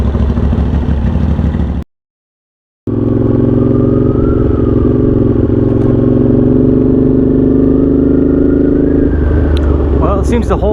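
Honda GL650 motorcycle engine idling steadily and loud up close after a first ride, the tone holding even before cutting out for about a second, then resuming with a slight rev near the end.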